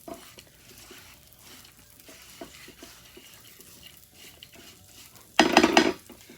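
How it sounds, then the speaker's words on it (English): Chopped pecans stirred in a pan for a butter pecan ice cream recipe, quiet scattered scraping and light clinks building to a loud burst of stirring and rattling near the end. "stir all these together until it's well coated"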